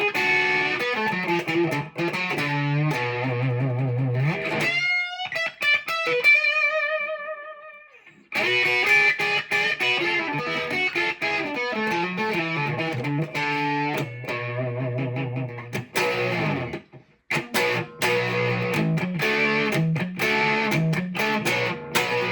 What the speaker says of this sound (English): let me kick on the overdrive. And we got a pretty decent distortion.